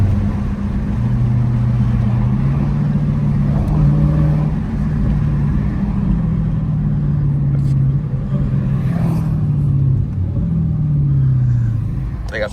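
Dodge Challenger SRT 392 V8 engine pulling through the gears on a highway, heard from inside the car as a loud continuous low rumble with rising and falling pitch across several shifts, with faint burbles.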